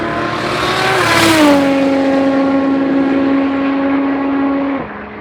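Michael Sinney's Ford Falcon EB drag car, a street racer once rated around 680 on the dyno, roars hard under full throttle, its engine note climbing and then holding a loud, steady pitch before cutting off abruptly near the end.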